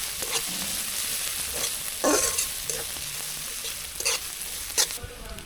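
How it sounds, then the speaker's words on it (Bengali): Cumin and coriander spices frying and being stirred in a pan, a steady close sizzle with scraping stir strokes and a few louder bursts. "আমার মশলা ভাজা হয়ে গেছে"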